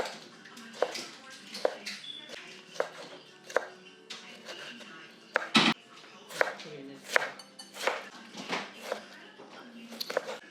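A specialty kitchen knife chops through hard food on a cutting board, with close, sharp chops repeating at an uneven pace, one standing out louder than the rest.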